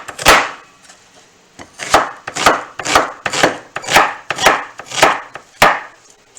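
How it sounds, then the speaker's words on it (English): A knife chops an onion on a wooden cutting board, about a dozen crisp, evenly paced strikes in close, clear succession with no talk. "Cut the onion."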